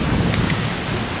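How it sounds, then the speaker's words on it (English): A heavy rainstorm with thunder during a bikepacking trip through the Lesser Caucasus mountains: dense, loud rain hiss with a deep low thunder rumble throughout. "Sounds like we got some thunder too."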